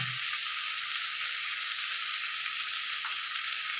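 Steady, even sizzle of frying in a pan where turmeric and asafoetida have just been added and stirred in, hissing continuously with a faint knock near the start.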